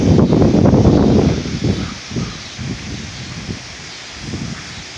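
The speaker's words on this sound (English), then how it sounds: "About 35 mile an hour wind." Strong wind of about 35 mph during a severe Oklahoma storm, roaring loudly against the microphone at first and then easing into lower, uneven gusts and rustling.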